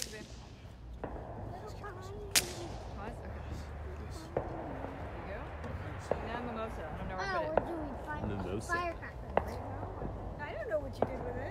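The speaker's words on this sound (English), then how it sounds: "Firecracker." Firecrackers go off on New Year's Eve as scattered sharp bangs and pops, some distant and some nearer, spaced irregularly beneath ongoing conversation among several people.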